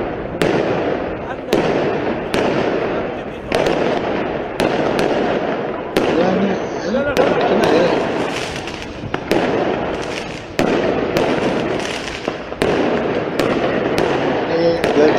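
Gunshots fired by Israeli military forces toward stone-throwing protesters in Palestine: about a dozen loud, sharp cracks at a steady pace roughly every second, over constant noisy crowd commotion with indistinct voices.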